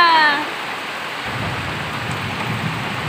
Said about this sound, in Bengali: খুব জোর বৃষ্টি হচ্ছে। ঝড় বৃষ্টি দুটোই হচ্ছে বন্ধুরা।